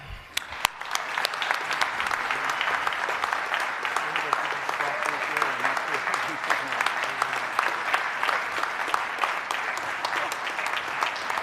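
An awards-presentation audience at a Basketball Manitoba lifetime achievement ceremony applauds recipient Brian Kornberger, a steady, dense clapping that holds throughout, with a few sharper claps at the start.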